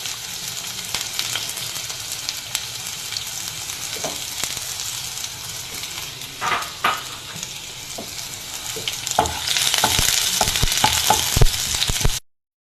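Red shallots and torn dried red chillies sizzle and fry in a pan for a green peas curry, a steady close crackle with scattered spatters and stirring clinks that grows louder and denser near the end.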